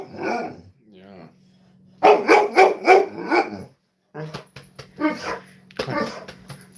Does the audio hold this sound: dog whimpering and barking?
yes